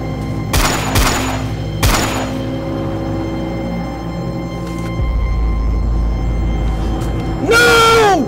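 Gunshots in an indie horror film: a few loud, sharp bangs in quick succession, each trailing off into a low rumble, followed by a steady low drone and a rising whine near the end.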